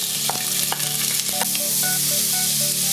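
Chopped onion, ginger and garlic frying in leftover oil in a pan, a loud constant sizzle close up with scattered clinks and scrapes of stirring.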